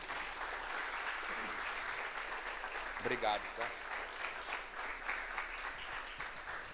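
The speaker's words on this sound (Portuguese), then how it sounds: "Você pode aplaudir o Senhor Jesus por isso?" A church congregation applauds during a Portuguese-language service, a steady broad wash of clapping running throughout while someone speaks briefly over it near the middle.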